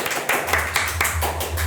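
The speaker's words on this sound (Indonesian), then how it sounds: "Tepuk tangan guys." A handful of people clap at a podcast recording, giving a few sparse, separate claps over a low steady hum.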